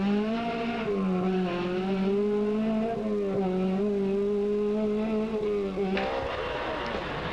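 A rally car on a stage of the 1984 Circuit of Kerry Rally passes with a loud, rising and falling engine note held through gear changes, then the sound cuts away abruptly near the end, no voices over it.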